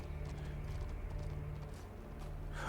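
Deer hoofsteps in the video game The Talos Principle 2, sounding like a horse's clip-clop, soft and fairly distant over a low ambient hum.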